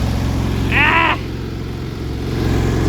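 A small engine idles steadily with a low, even chugging pulse throughout, and a brief higher whine rises over it near the start; the engine is prone to backfiring.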